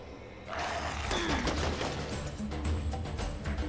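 Bursts of gunfire in the Serious Sam 3 video game, a dense rattling fusillade that starts abruptly after a quiet half second and continues steadily and loud.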